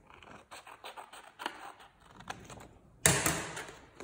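Scissors snip off excess material from a handmade spring tree craft, giving a series of quiet close cuts followed by one louder, sharper snip near the end.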